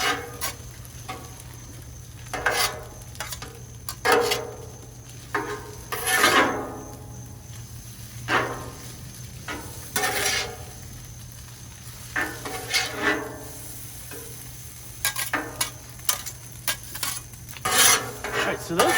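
Spatulas mix scallops on a Blackstone griddle, sending out repeated metallic scrapes and clacks in irregular bursts over a soft steady sizzle, close by with no talking.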